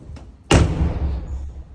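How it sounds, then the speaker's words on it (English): The door of a BMW E46 car swings shut with a single heavy, close thud, followed by a fading low rumble of the cabin settling. "So you can close the door,"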